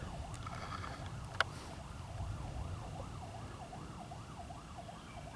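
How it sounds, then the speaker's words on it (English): Far-off emergency vehicle sirens wail in a steady, rising-and-falling pattern during a storm, faint under outdoor background noise, with one brief sharp knock near the start. "I hear all kinds of sirens. There's some more coming."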